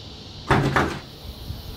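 A Tesla frunk fitted with upgraded struts springs open with a quick thump and a short rattling wobble, followed by a soft knock, close and fairly loud.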